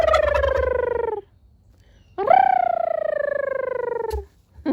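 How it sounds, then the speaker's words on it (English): A backyard turkey gobbles twice, loud and close: a long rattling, descending gobble, a pause, then a second extended gobble, each with a fluttering, purring texture and nothing else in the background. "I haven't gotten you to gobble yet."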